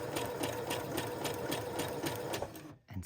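A sewing machine runs stitches through a paper tea bag in a steady, close, rapid mechanical whir with regular pulses, then stops abruptly near the end.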